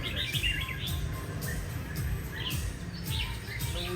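Red-whiskered bulbuls chirp in quick, scattered bursts at a bird farm, fairly faint over a steady low background rumble and noise, with no talking.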